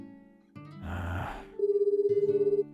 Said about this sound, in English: The ringtone seems especially loud to me right now.